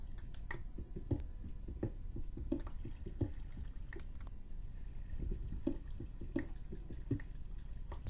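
Water dripping in a cave in the video game Minecraft, scattered soft drips at irregular intervals, quiet and close, over a low ambient hum with no talking.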